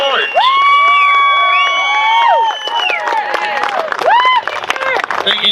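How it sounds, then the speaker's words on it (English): Crowd at an outdoor political rally in Guadalupe Park, cheering, whooping and shouting loudly and steadily throughout, with high excited voices rising above the roar. "Give him a big round of applause, lady, and give him your support."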